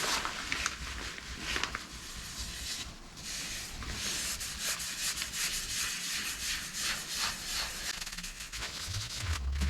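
Steady dry rubbing as Yorkshire grit polish is worked onto a spinning sapele tealight holder on a wood lathe, a continuous close hiss with no talking.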